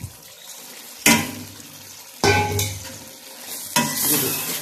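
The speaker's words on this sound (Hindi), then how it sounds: "अब ये मेरे आलू मटर भुन गए हैं, तो अब मैं इनके अंदर शिमला मिर्च और गाजर भी डाल देती हूँ" Potatoes and peas frying in a pan as capsicum and carrots are added, with loud sizzling bursts at each addition settling into steady frying crackle and stirring, close and without talk.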